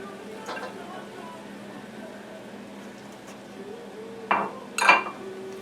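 Broccoli and asparagus dropped into a hot pan for broccoli beef, faint sizzle under low background noise, then two clear clattering drops of vegetables onto the metal near the end.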